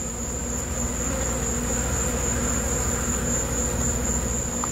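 Honeybees drink at a bee feeder, making a dense, steady swarm hum that runs unbroken and even throughout, with no talking.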